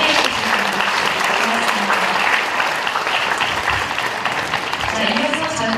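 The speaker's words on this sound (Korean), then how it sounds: "다시 한번 이 네 분께 감사의 박수 부탁드리겠습니다." Audience at a ceremony honoring young farm successors applauding loudly and steadily for four guests, a dense, continuous wash of many hands clapping nearby, with a voice briefly audible over it.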